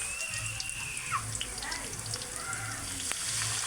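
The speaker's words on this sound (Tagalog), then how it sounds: "Ngayon guys, lagyan natin ng soy sauce." Soy sauce poured into pansit bihon sizzling in a frying pan, a steady close hiss and crackle with a liquid trickle, no talk.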